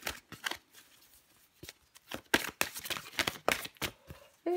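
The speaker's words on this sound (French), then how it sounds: "je prends encore une carte pour vous, les vierges" Tarot cards are handled and drawn from a deck: a run of quick, crisp riffling flicks and soft slaps in uneven bursts, close and fairly quiet, without speech.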